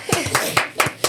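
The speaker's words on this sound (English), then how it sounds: "Can we clap? I just want to clap." A few people clap hands in slow, uneven bursts, four or five distinct close claps with gaps between them and faint voices underneath.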